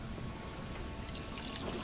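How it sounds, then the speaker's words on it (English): A drink is poured in the video game Detroit: Become Human, a soft steady trickle of liquid that brightens partway through, quiet and continuous with no talk. "Come on, let me pour."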